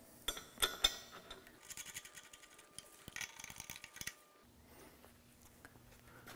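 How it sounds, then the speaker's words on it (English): Metal clinks and ratcheting clicks of an adjustable wrench tightening a hose end onto a nitrogen bottle for a Danuser Hornet post driver, faint and intermittent with short bursts near and close. "Take the end of the hose and your adjustable wrench and install it on the bottle."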